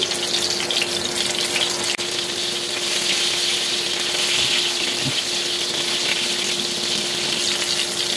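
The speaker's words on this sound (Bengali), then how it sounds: "বাকি কোফতাগুলো ভেজে নিচ্ছি।" Rui fish koftas fry in oil over low heat, producing a dense, continuous bubbling sizzle at close range with occasional faint stirring sounds.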